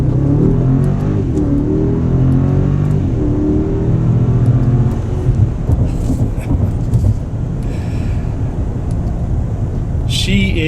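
A 2022 Mercedes-Benz GLS600 Maybach accelerating hard, heard from inside the cabin as a loud, steady rising engine roar with a low rumble, and a brief voice near the end.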